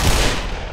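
Gunfire in the shooter game Black Mesa, a dense, loud burst of overlapping shots filling a short moment with no gaps.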